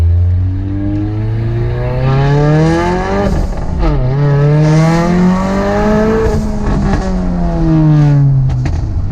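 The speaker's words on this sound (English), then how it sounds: "So you guys can hear all this backfired stuff." A car running with its exhaust resonator tips missing drones and revs through rising and falling engine sweeps, loud and close, while sharper pops and crackles from the exhaust break in now and then.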